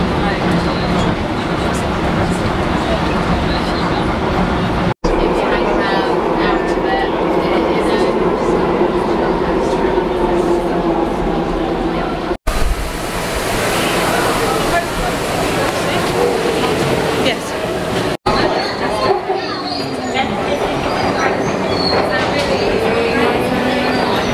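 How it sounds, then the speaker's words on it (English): A London Docklands Light Railway train rumbles steadily throughout the ride, a broad, constant roar of wheels and motors with a few sharp breaks where the sound cuts, loud and close from inside the carriage. "I'm just going to jump on this DLR train now and head over to Cutty Sark"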